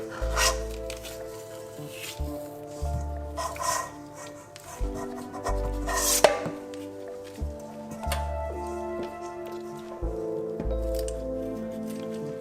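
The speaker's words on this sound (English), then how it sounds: "So use the scissor. We cut in the middle." Scissors cut through the middle of a squid during cleaning, producing several soft, wet snips and squishes over steady background music.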